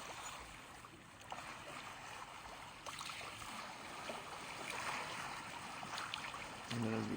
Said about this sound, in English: we will still hear the lake as we get closer.